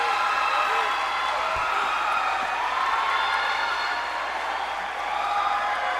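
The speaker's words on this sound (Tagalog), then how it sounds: "The crowd here at the Gayville Central Park just erupting into cheers" Dense crowd noise at a badminton match in Gayville Central Park during the Philippine National Badminton Open finals, a steady roar of cheering and clapping that holds at full loudness across the whole stretch.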